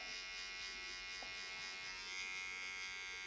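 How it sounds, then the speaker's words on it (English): Electric hair trimmer buzzes steadily and quietly, close by, tidying the ends of a medium-length wavy haircut, with no talking. "You're just using the trimmer just to cap off any of the little bits."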